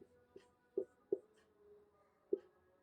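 Pen or chalk writing during a class 10 maths lesson: a few sharp taps and short strokes over a quiet room hum, close and soft, with no speech.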